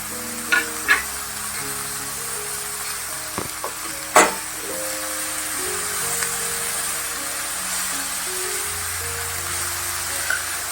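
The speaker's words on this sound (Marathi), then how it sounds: "आता चल आवाज आला पाहिजे भाजी टाकताना" Safflower leaf greens sizzle and hiss steadily in hot tempering oil, with a few sharp clatters of a utensil early on.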